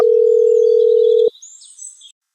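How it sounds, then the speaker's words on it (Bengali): A phone tone in a cartoon: one steady, loud electronic beep held for just over a second and cut off sharply, followed by faint high chirping tones. "মাটাকে একটা ফোন লাগাই, দেখি কি বলে সিআইডি হয়েছে"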